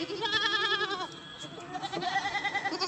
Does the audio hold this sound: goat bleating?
yes